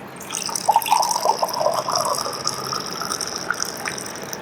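Water poured out of a glass during a magic trick: a steady splashing pour that gushes and trickles for several seconds, close and fairly loud, with no talking over it.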